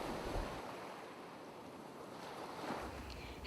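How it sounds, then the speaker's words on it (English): Surf washing onto a shore, a steady broadband roar with swells building near the start and end and some wind noise on the microphone, with no voices. "I want you to close your eyes, imagine the cool waves"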